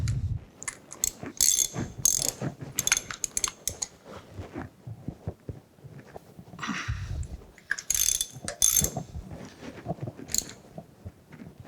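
The universal milling head of a horizontal mill is tightened down, giving intermittent bursts of close metallic ratcheting and clicking with short pauses between them.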